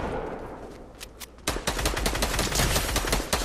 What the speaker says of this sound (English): Somebody shooting at me up here.